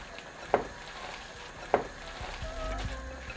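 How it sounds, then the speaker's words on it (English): A pan of Punjabi yogurt curry (kadhi) bubbles quietly with a soft, steady simmer, broken by two sharper pops, and no talk. "And that's bubbling away nicely."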